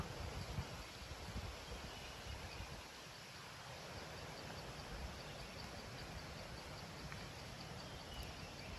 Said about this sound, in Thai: ลมพัดแรงมาก